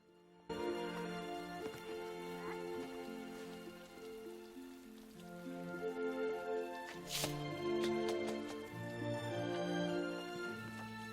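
Steady rain falls on a city street at night, beneath a prominent orchestral film score with sustained tones that carries through the whole passage.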